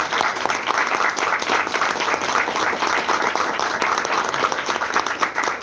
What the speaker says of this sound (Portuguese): Então vamos aplaudir o papai pela revelação.